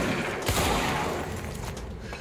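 Gunfire in the video game Control, a dense burst of rapid shots and booming impacts during a firefight, loud and continuous with a sharp blast near the start.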